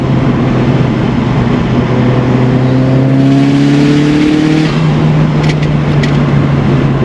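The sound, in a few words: turbocharged Mitsubishi Lancer Evolution 6 accelerating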